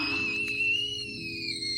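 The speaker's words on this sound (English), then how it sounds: "It's like the little whistle when the water's ready." A thin, steady high-pitched whistle from a toy tea kettle holds for a couple of seconds, wavering slightly, with a soft low hum underneath.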